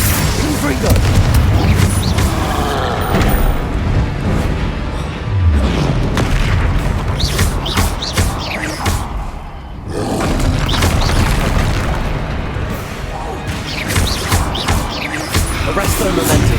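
Confringo spell blasts in the Hogwarts Legacy video game, a steady barrage of booming explosions and roaring combat effects mixed with spoken spell incantations throughout.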